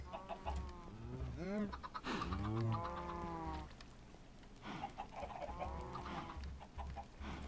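Chickens in the video game Minecraft cluck and squawk in a series of clear, near calls with short pauses between them, over a low background hum.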